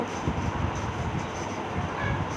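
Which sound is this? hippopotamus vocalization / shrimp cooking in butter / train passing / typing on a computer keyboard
train passing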